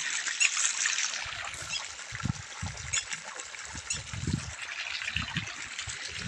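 Borewell water pours out in a continuous splashing rush, with low gurgling surges and spatters close by, and no clear talk.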